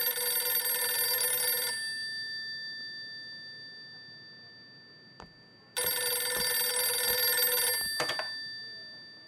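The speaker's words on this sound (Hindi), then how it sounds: "टेलीफोन। मैं काम कर रही हूँ, फोन उठा लो।" An old-style telephone bell rings loudly in a long burst, stops for several seconds, then rings again in a second long burst, with faint knocks between.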